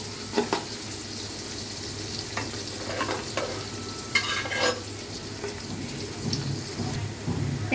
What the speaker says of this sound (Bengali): পেঁয়াজটা একটু ব্রাউনিশ করে ভেজে নিব প্রথমে।